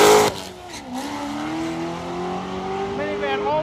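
A Corvette and a minivan drag race at a test and tune event, engines roaring loudly as they launch and pull away down the strip, rising revs fading with distance while a voice talks over the noise.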